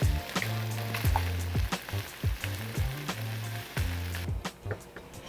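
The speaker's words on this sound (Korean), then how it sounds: "이렇게 볶아진 거에다가 아까 말씀드렸던 토마토 캔을 까서 넣어볼게요" Canned tomatoes are tipped into a sizzling stir-fried chili con carne mixture, giving a busy frying crackle broken by repeated stirring scrapes and clacks of a utensil against the pan, with no talk.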